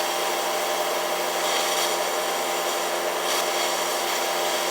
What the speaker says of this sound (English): It actually has a fairly steady arc. This is DCEN right now, I believe.